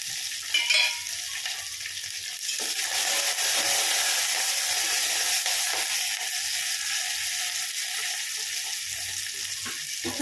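Curry leaves fry in hot oil for tomato rasam, a loud, steady hiss and sizzle close by that swells after a brief spatter at the start and holds without pause.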